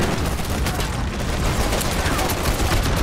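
Dense, continuous rifle fire and explosions from an AK in an Uncharted 4 multiplayer match form a loud, unbroken barrage of battle noise.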